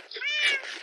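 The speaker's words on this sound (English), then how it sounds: "Cat is annoying." A single short, rising-then-falling meow from a cat in the video game Minecraft, clear and fairly close, with nothing else heard around it.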